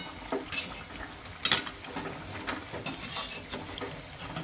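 Medu vada, a lentil batter fritter, frying in hot oil as a batch is flipped, giving a steady close sizzle broken by a few sharp clatters and scrapes near the middle.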